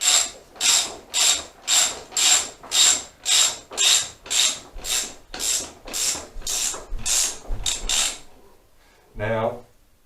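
A socket ratchet on a 17mm fork nut of a Honda CBR400 being rebuilt clicks in about fifteen steady, rhythmic strokes, close and crisp, followed by a brief voice.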